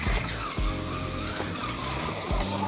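A car on a timed autocross-style lap drives hard, engine droning close by while tires squeal and skid through a U-turn, with short sharp thumps between the sustained scrub of rubber.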